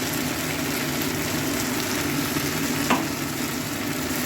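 Poppy seed paste frying in a pan on a rainy day, a dense, steady sizzle throughout with one brief scrape of stirring.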